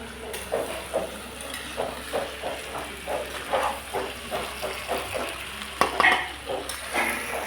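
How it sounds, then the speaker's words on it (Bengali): Pointed gourd slices fry in hot oil, a steady close sizzle broken by rhythmic scraping stirs roughly every half second, with no talk. "এই যে পটল ভাজা হচ্ছে এখন।"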